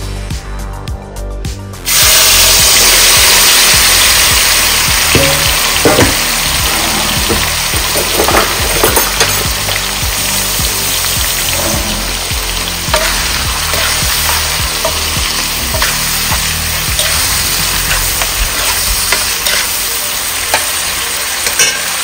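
Chicken livers fry in hot oil in a pot. A loud, dense sizzle starts abruptly after a short moment and keeps crackling steadily to the end, with occasional sharper pops and scraping.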